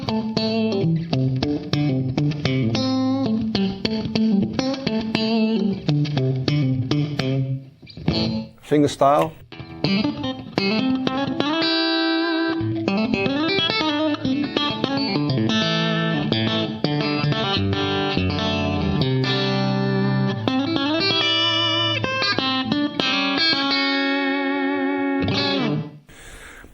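Clean electric guitar picked fingerstyle through a compressor with a wide, spacious stereo reverb tail, playing continuously; a voice speaks briefly.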